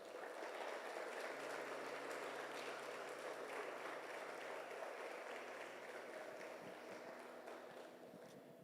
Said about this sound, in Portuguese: Se eu fosse você, aplaudia Jesus aí